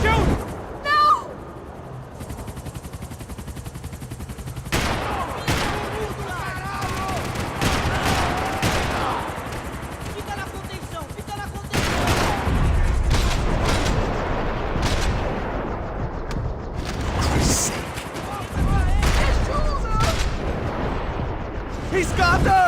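Gunfire bursts from Max Payne 3, a video game, in rapid volleys and sharp repeated shots beneath an ongoing game score and tense shouted dialogue between characters.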